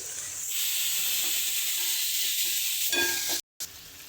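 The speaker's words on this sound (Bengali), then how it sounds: "এ দেখেন আমার মাছ ভাজাও হয়ে গেছে।" Fish fries in a pan with a steady, loud sizzling hiss that runs almost continuously, broken by a brief silence near the end.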